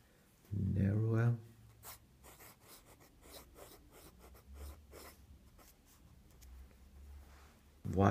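A calligraphy pen with a narrow 0.8 millimetre nib scratches across paper in soft, close strokes, preceded by a brief louder thump and with a voice talking over it.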